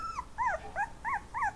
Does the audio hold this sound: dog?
yes